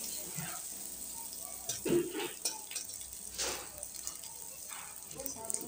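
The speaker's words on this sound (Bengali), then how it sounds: "এরপর আমি পেঁয়াজ আর রসুন কুচিটা দিয়ে দেব। এটাকে একটু আমি হালকাভাবে ভেজে নেব।" Chopped onion and garlic fry lightly in a pan after whole cumin seeds, giving a steady soft sizzle with a few stirring scrapes and clinks, close and moderately quiet.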